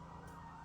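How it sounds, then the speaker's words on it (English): Emergency vehicle sirens sound outside as a faint, steady wailing tone in a very brief moment, heard from a distance and without speech. "Now the sirens are coming in."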